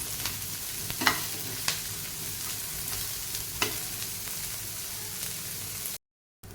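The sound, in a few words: frying onions in a pan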